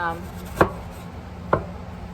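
Two sharp knife chops through a red onion on a cutting board, spaced about a second apart, with quiet room tone between.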